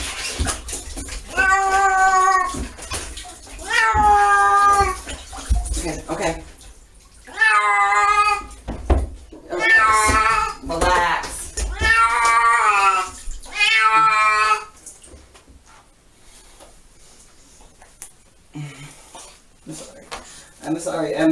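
A cat yowls and meows loudly in repeated drawn-out cries while being bathed, with a person talking between the calls and quieter splashing water toward the end.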